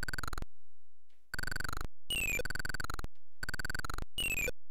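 Electronic arcade video game bleeps from Mortal Kombat in short bursts of rapid tones, with rising synthetic sweeps between them, loud and clear with silent gaps.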